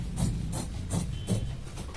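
Fabric for trousers being cut along chalk marks, heard as a steady series of close rasping snips or slices, about four evenly spaced strokes over a low rubbing background.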